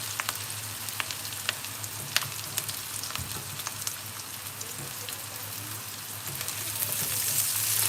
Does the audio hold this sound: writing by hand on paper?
no